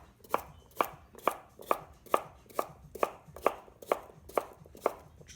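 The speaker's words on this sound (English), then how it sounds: "So we'll just finish chopping these up." A knife chops vegetables for a Greek salad on a cutting board, about ten crisp, evenly spaced strokes, close and clear with no talk.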